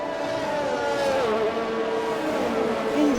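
Race car in a sim racing game at the Mexico round, engine holding a steady high tone with a brief pitch shift near the end as it crosses the finish line.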